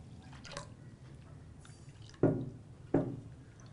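Water poured into a mango drink mixture with salt, heard as two distinct close splashing pours over faint background noise.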